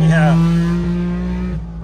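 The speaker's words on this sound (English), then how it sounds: "the idle's almost like a cammed V8" A modified 1961 Saab 96 engine idling with a steady, lumpy drone much like a cammed V8, loud and close, with a voice speaking over it.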